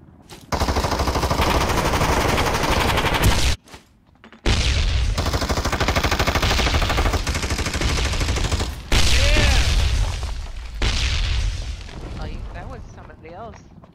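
Rapid bursts of automatic gunfire and heavy booming shots in the shooter game Ring of Elysium, loud and dense, with a brief pause before resuming; voices talk over the shooting.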